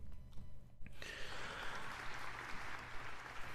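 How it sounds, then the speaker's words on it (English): Applause during a live game-development stream, a short quiet lead-in then a burst of steady clapping that continues evenly to the end, faint and without talk. "Can I give a round of applause for Noah for being, behaving?"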